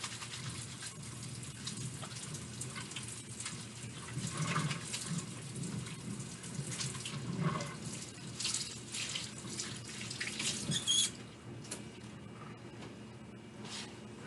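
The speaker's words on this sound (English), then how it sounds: "We should always be washing our hands before we cook anything for anybody else." Running tap water pouring into a sink while hands are washed, a steady close splashing hiss with small surges, lasting throughout with no talking.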